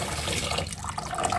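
Green chillies and garlic are rinsed under running water in a kitchen sink, a short steady splash and trickle from the tap with no talking.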